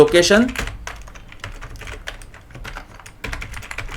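Code being typed on a computer keyboard, a rapid irregular patter of close key clicks with a few louder strokes, while someone speaks over the typing.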